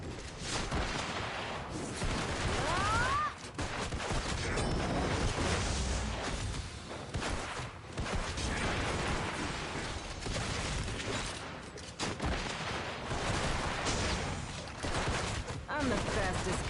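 Rapid gunfire in the online game Black Desert Online, with loud, dense bursts of shots and whooshes running almost continuously across the whole stretch amid other combat noise.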